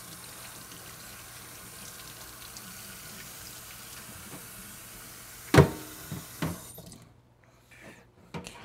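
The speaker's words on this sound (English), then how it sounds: "Rinse the pieces off." Running tap water rinsing vacuum cleaner parts in a sink, a steady low stream that breaks into a few splashy clatters near the end before cutting off.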